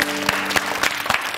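A studio audience at a Romanian word game show claps in brisk, fairly rhythmic bursts, loud and close, with a faint tonal hum beneath.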